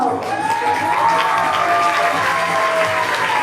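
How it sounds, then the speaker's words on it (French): Sustained audience applause at a school talent show, a steady wash of clapping and crowd noise throughout, with a voice speaking faintly over it. "Applaudissez Mathilde, la mère poule par excellence du groupe Illusion."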